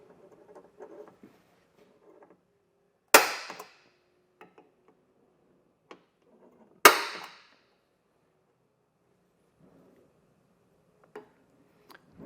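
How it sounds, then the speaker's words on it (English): A center punch marks drill locations on a 2015 Toyota 4Runner during a Front Runner ladder install, giving two sharp metallic strikes a few seconds apart amid light scattered taps and handling noises. "I'm gonna push it up as far as it'll go and mark my locations to drill using a punch."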